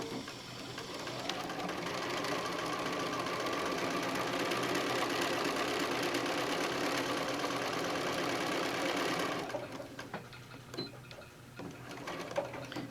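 A sewing machine stitching a bag lining runs in one continuous close, steady whirring burst for about nine seconds, then stops, leaving faint handling noises.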